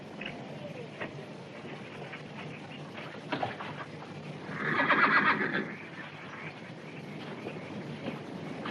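A horse whinnies clearly in the middle, a loud rising neigh lasting about a second, over a steady background murmur with faint clops.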